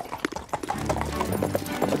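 A horse in an animated children's show clip-clops along in a quick, even rhythm at moderate volume over a soft background.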